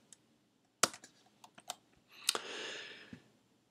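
Someone types on a computer keyboard while entering a formula in a budget spreadsheet: scattered sharp key clicks, then a quick burst of rapid keystrokes, close and fairly quiet.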